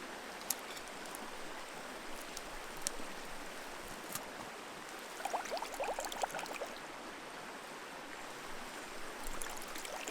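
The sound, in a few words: river flowing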